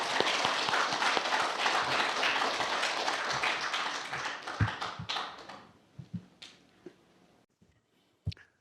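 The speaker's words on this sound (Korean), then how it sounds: "그럼 큰 박수로 배석철 교수님을 모시겠습니다" An audience at a lecture breaks into applause welcoming the speaker, a dense wash of clapping that fades out over several seconds into a few last scattered claps.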